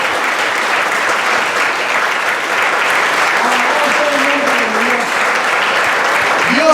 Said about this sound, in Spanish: Quiero darle un aplauso fuerte al Señor porque Él se lo merece